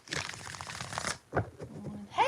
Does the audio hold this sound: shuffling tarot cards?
yes